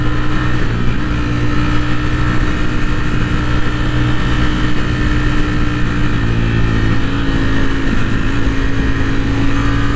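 Ducati Streetfighter V4 SP motorcycle with a dry clutch, its engine running steadily and loud throughout, a dense continuous drone with no talk over it.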